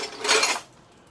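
A box of dishes gives way through its bottom, producing a single short clattering crash of ceramic and metal pieces that fades quickly.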